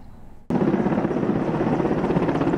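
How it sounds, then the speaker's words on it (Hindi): An Air Force helicopter flies over a large factory fire, its rotor noise starting abruptly and then holding as a loud, steady, fluttering roar close overhead with no voices. "और उसके ठीक ऊपर आसमान में उड़ता एयरफोर्स का हेलीकॉप्टर।"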